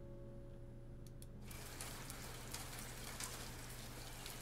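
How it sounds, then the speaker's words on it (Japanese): Light rain falls steadily outdoors as a soft, continuous hiss of drops on surfaces. It starts after a quiet opening and carries on evenly, with no voices. "外に出れば小雨が降っていた。"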